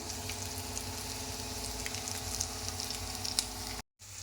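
Curry leaves sizzle in hot tempering oil for peanut chutney, a steady close crackling fry that holds evenly for nearly four seconds before cutting out briefly and resuming.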